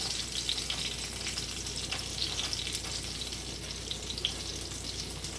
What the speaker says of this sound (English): So these fritters are finished frying.